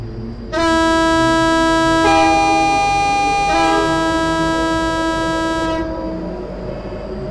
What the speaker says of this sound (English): I must say, it's a very melodic horn, that.